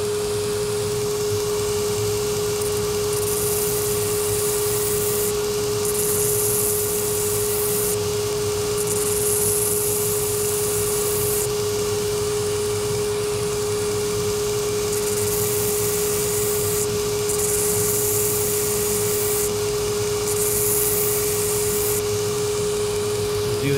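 Steady whirring power tool tapering the front of a knife handle, a continuous loud drone with a fixed hum, running without pause throughout with no talk.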